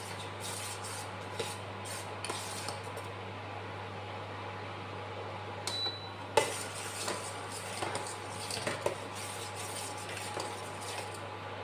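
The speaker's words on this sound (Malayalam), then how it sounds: "ഒന്ന് കുറച്ച് ആ ഇഞ്ചിയുടെയും ഇതൊക്കെ എസൻസ് ഒന്ന് ഇറങ്ങാനായിട്ട് ഒന്ന് ഇളക്കി" Boiling ginger tea stirred in a pot, with soft scraping and light clinks over a steady hum, a couple of sharper metallic knocks partway through.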